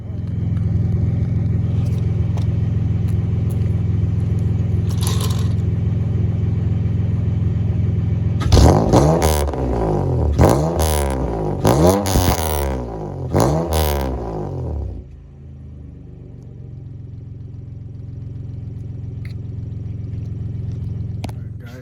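A 7th gen Honda Accord engine fitted with a PCD, idling with a steady rumble, then revved several times in quick raspy bursts that rise and fall before settling back to idle.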